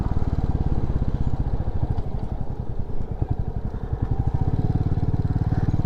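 A motorcycle engine chugs in a steady, rapid low pulse, close and loud, as the bike keeps riding on the route from Kathmandu to Sailung in Dolakha, Nepal.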